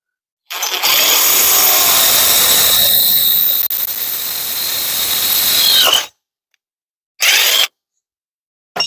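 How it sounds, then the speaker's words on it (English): A power drill whines loudly for about five seconds, pitch shifting as it bites into a CFMoto UForce 800 XL side-by-side, then stops; a brief second burst follows after a pause. "We are going to have to drill a hole in our side-by-side"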